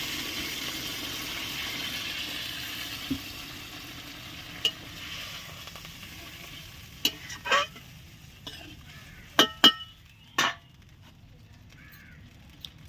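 Egg masala curry bubbles and sizzles in a pan just after water is added, a broad hiss that fades over time, punctuated by a few sharp clinks of a spoon stirring against the pan.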